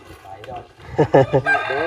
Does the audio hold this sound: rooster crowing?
yes